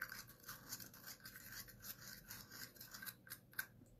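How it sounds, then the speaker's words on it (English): A glittery, spreadable stencil medium is stirred in its container, making soft, close scraping strokes that repeat in an uneven rhythm. "I'm going to give it a good stir."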